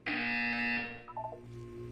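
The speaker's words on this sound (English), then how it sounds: "You will hear a buzzer." In Portal 2, a loud, harsh electronic buzzer sounds for about a second, then breaks into a few shorter tonal blips and fades into a lower hum.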